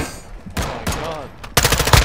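Gunfire in the shooter video game DMZ, inside Building 21: a few sharp, loud shots and a closing rattle of rapid fire, close and punchy within a brief moment of combat.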